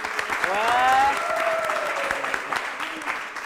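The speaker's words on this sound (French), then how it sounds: "Et merci à lui aussi, on l'applaudit." A studio audience applauds at the close of a show in Madagascar, sustained clapping beneath a prominent voice that speaks and cheers over it.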